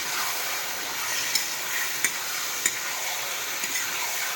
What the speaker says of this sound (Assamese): খাচী মাংস এটা ফ্ৰাই কৰিম